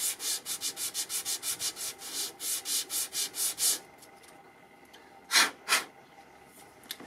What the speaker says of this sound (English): granite block, starting with the 120 grit. Once the coarse scratches are gone, using that, I'll then graduate up to 220 grit.